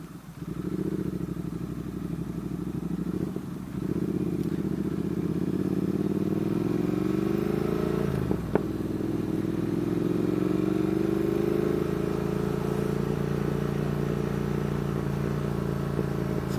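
Triumph motorcycles cruising on country A and B roads toward Epping Forest, a steady mid-pitched engine drone with a gear change and rising revs partway through, close and continuous.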